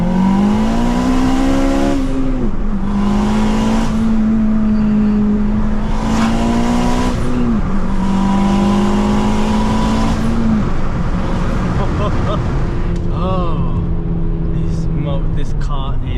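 A 500bhp Honda Civic FN2 Type R engine screams through high revs on city streets, holding long sustained pulls with a few gear changes and dips, loud and close, with tire and traffic noise around it.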